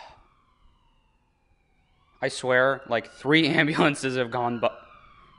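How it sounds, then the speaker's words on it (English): An ambulance siren passing outside an open window, a faint, distant wail at the start, then a person speaks close by. "three ambulances have gone by recording this one video."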